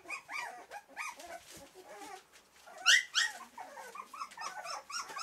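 Repeated high, thin whimpers and squeaks from puppies, close by, coming in rapid bursts with one louder yelp cluster in the middle.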